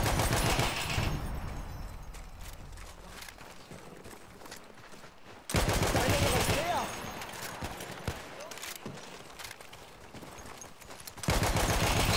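Sniper and other gunfire in a Battlefield 1 battle crack out in loud, sharp bursts, with heavy volleys at the start, middle and end and scattered shots between.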